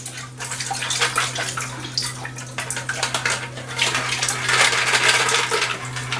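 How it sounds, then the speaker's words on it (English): Liquid drains through a sieve with a steady watery rush and trickle, close and continuous, under a constant low electrical hum, with no talking. "run it through a sieve to get rid of the liquid here. Just going to kind of drain that out."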